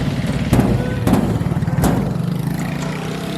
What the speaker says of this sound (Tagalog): Dugay-dugay, may motor na naman.